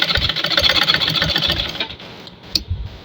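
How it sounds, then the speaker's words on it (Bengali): A sewing machine stitching a pajama over elastic, a fast close mechanical whir that runs steadily, then slows and stops, followed by a brief clack and a few short bursts. "আরেকটা সেলাই দেব মাঝখানে।"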